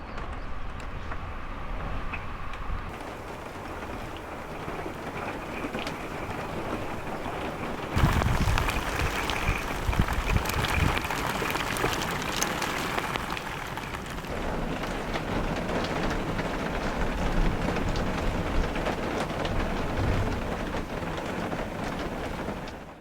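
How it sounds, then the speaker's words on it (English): Rain patters steadily on the roof of an RV, a continuous close hiss and drumming that grows heavier partway through and keeps going to the end, with no one talking. "now it's starting to rain."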